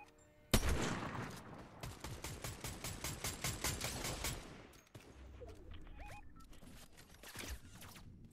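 Fortnite gunfire opens with a sharp shot, then a rapid, evenly paced automatic burst lasting a few seconds before breaking off, with scattered quieter game sounds after.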